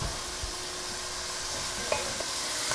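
Soup ingredients sizzle steadily in a pot, a faint, even crackling hiss with a few soft stirring clinks, heard alone without talk.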